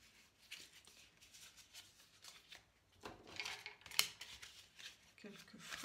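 Cards being handled and shuffled close by in a quiet room, soft papery flicks and slides coming in irregular bursts, with a sharp snap near the middle.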